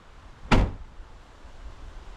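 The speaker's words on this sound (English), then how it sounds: "when you close that door" A Mercedes Sprinter van door shuts once with a single solid thud, close and alone, followed by quiet ambience.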